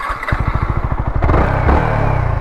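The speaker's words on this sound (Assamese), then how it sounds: "2খন বাইকৰ এটা লাষ্ট RPM শুনাম আপোনালোকক দেই VTখনো এটা শুনাই দিওঁ" Yamaha R15 V3 and a Bajaj Pulsar NS200 motorcycles revving hard, a loud rapid engine pulse climbing in pitch then settling into a sustained high-rev roar, close by.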